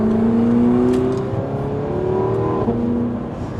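An Audi R8 fitted with an F1 Top Gear Valvetronic exhaust revs up loud and close, engine pitch climbing steadily, dipping briefly, then holding a strong droning note.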